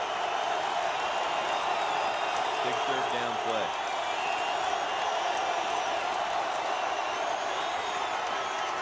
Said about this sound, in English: As the crowd begins to absolutely roar.